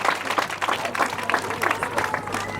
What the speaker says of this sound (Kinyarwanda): Kongerere Yesu amashyi menshi cyane kuri iki kintu Imana ikoze